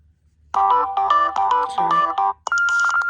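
A Samsung Galaxy Express 3 phone ringtone plays as a bright, rapid melodic electronic tune of short repeated notes, clear and close with no voices.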